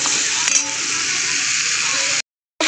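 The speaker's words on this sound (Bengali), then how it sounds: "তো চলো চিংড়ি মাছগুলো আগে ভেজে নিই ভালো করে।" Shrimp fry in hot oil in a pan, giving a loud, steady sizzle with a faint clink early on, then the sound cuts off abruptly for a moment before returning.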